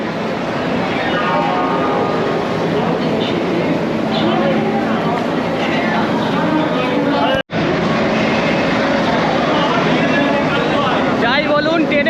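Saraighat Express (12345) at Howrah station, platform 9, with a loud, steady rumble of train and station noise running for twelve seconds, a brief dropout partway, and people talking throughout.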